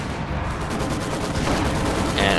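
Machine gun fire and battle noise from the video game Company of Heroes 2: a dense rapid rattle of shots over constant rumble, loud and unbroken for the whole moment, with no speech over it.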